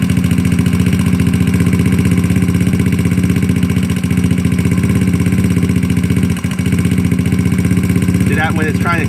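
A GY6 scooter engine idles steadily up close on a lean, fuel-starved carburetor mixture, its low throb running continuously with slight surging, and a brief mechanical clatter sounds near the end.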